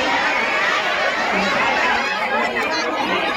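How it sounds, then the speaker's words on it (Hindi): Dense, steady murmur of many people chattering in a packed, busy queue at Wonder Park Nerul, a continuous crowd hubbub with no single voice standing out. "देखिए कितनी भीड़ है, कितना क्यू है यहाँ पे, घुस घुस के देख रहे"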